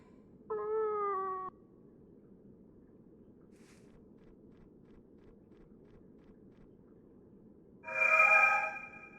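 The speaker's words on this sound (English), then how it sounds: "That was the weirdest meow I've ever heard come out of a Neko ever." Two short meows from a cat in the video game Fragile Dreams: Farewell Ruins of the Moon, one at the start and a louder, brighter, odd one near the end, over a low steady background hum.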